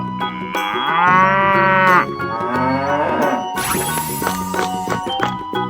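A cartoon cow in a 3D animal slide video game moos loudly in long drawn-out calls over bright, busy game music and jingly effects.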